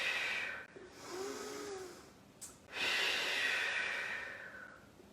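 Slow, audible breaths during an intermediate Pilates session, two long airy exhales close to the microphone separated by a quieter pause, with no speech.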